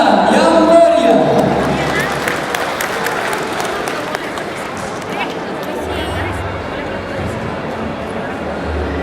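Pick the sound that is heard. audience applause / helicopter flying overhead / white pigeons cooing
audience applause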